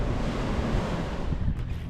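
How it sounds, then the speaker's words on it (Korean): Ocean waves wash in a continuous loud roar on the coast near the Golden Gate in San Francisco, with wind buffeting the microphone throughout. "파도"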